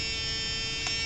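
A slot car motor spinning on a dyno at 28,000 RPM gives a steady, high-pitched electric whine, loud and close, holding constant throughout with no voices.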